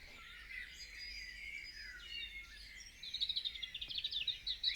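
Birds sing in the East Shropshire countryside, overlapping trills and chirps at moderate distance over a soft steady background hum, with one bird's rapid repeated phrase growing louder and closer near the end.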